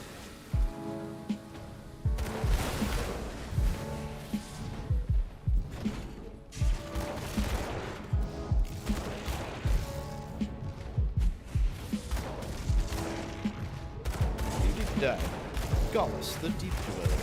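Mortar fire in the action RPG Grim Dawn comes as a dense, steady patter of thuds and crackling impacts amid game effects, with a voice talking over it.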